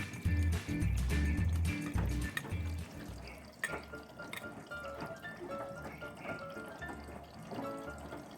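Running water pours and splashes into the drum of a TCL P60 front-load inverter washing machine, steady and close, with some clunks and drips.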